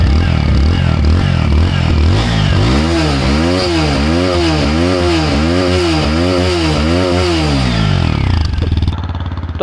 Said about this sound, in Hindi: सो गाइस, अब इसका एग्जॉस्ट नोट भी सुना देता हूँ आपको।